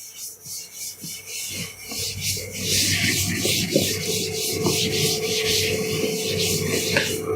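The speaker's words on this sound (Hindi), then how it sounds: "इसे मैं रब किए देता हूँ" A teacher rubs writing off a classroom board during a physics lecture, a steady dry scrubbing and rasping that runs continuously for several seconds and grows louder partway through, with no talk over it.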